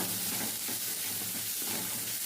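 Onions and tamarind sautéing in a pan give a steady, close sizzle and frying hiss, with faint stirring scrapes running through it and no talk.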